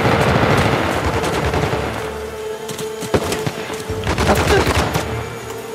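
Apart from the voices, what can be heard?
gunfire from enemies in video game Uncharted The Lost Legacy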